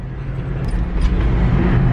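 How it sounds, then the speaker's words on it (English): A modified Prius driven fast over rough ground, giving a loud continuous low road rumble with faint scattered ticks and knocks in the cabin. "all the noises that you hear, kind of like in a race car with the rocks bouncing off the frame and just the little creaks"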